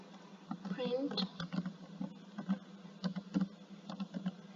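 Fingers type on a computer keyboard during a Python programming lesson, with quick, light clicking taps pattering steadily beneath a person's continuous talking.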